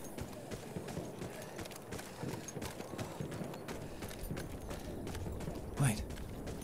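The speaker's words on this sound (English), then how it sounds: "Oh, there's a horse." A horse's hooves clip-clop steadily in the video game Battlefield 1, a soft continuous patter under game ambience and battle noise, with a brief louder accent near the end.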